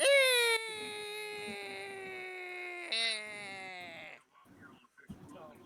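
A human voice imitates a creaking door opening with a long, drawn-out, high wavering creak that slowly falls in pitch, followed by softer vocal noises.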